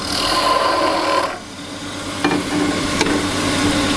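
A 3/4 inch skew chisel takes heavy cuts on wood spinning on a lathe in a cup chuck, giving a steady loud rasping scrape with a brief lull and a couple of sharp catches, no voices.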